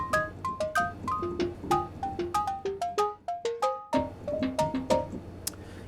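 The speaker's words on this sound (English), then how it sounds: "if you turn on layer B, it's got a hidden sine wave" A Percussa sample library preset with a hidden sine wave layer blended in: a rapid melodic run of short, bell-like pitched tones with clean sustained pitches, each note struck sharply and decaying quickly, alone with no talk.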